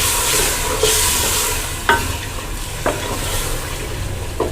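Ground tomatoes added to a frying masala for Punjabi kadhi pakora, an even sizzle with a few distinct stirring scrapes and clacks against the pan.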